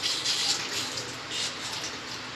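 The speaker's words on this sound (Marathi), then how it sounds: "आता पहिलं पाणी भरते." Water runs from a household tap into a vessel in a Marathi home, a soft, continuous hiss and splash with slight swells in level, fairly quiet and with no speech.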